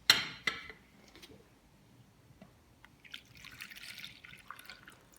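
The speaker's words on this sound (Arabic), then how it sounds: "توا باش نصب الحليب" Milk poured into a pot for Tunisian hazelnut cream, a faint trickling liquid stream after a couple of sharp knocks at the start, quiet and without talk.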